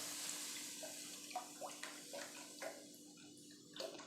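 Milk, about a litre, pours into a pot for mac and cheese, a faint continuous liquid stream with soft gurgles and splashes, close and quiet, with no talking.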